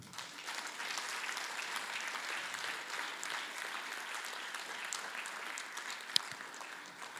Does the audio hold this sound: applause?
yes